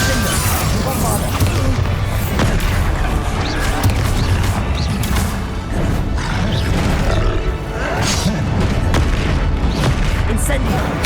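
Bombarda explosive spell cast repeatedly during Hogwarts Legacy combat: a dense barrage of booming blasts and crashing impacts, loud and continuous, with grunts and spoken voices mixed in.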